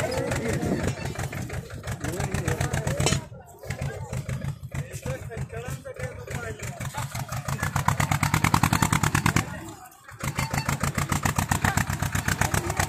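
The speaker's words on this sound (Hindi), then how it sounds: "ये जो ट्रैक्टर है इसको निकाला जा रहा है" A tractor engine chugs steadily nearby on the Kedarnath footpath, with a rapid, even beat, briefly dipping twice before resuming.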